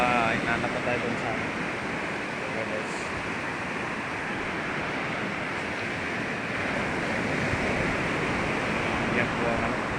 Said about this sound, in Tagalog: yan po ang dagat namin dito